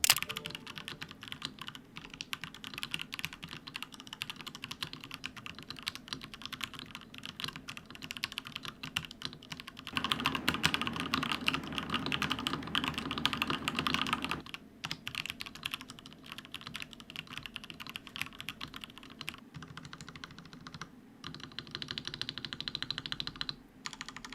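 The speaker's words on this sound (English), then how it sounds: "let's hear how this keyboard sounds" Fast typing on a computer keyboard fills the clip, a steady close-up clatter of key presses that swells louder for a stretch midway.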